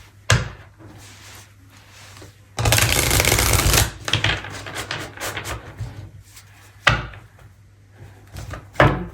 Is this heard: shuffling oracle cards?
yes